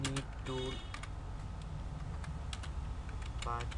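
Keys clatter steadily on a computer keyboard as a web search is entered, a rapid run of close, crisp clicks over a constant background hum.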